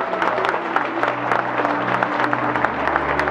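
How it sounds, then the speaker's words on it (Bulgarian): Wedding guests applaud together, a dense, steady wash of clapping from a crowd filling the room, loud and sustained throughout with no voices over it. "Аплодисменти!"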